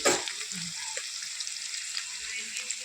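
Sliced onions frying in plenty of oil for potato chorchori give a steady, moderate sizzle with small crackles and a brief louder stir at the start.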